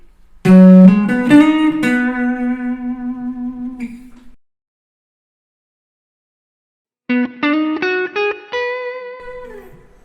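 An electric guitar plays a classic 12-bar blues intro lick, bending and sliding notes, then falls silent for a few seconds before repeating the phrase. Clean and close.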